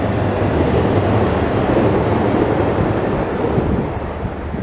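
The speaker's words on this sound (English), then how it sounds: "Let's see, Gawler line train." A Gawler line train rumbles past nearby on a hot, windy day, a loud broadband roar steady for several seconds and easing toward the end, mixed with wind buffeting the microphone.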